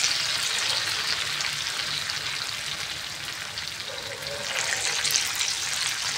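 Potato bhaji batter sizzles and crackles in hot oil in a pan, a steady close frying hiss that swells slightly near the end.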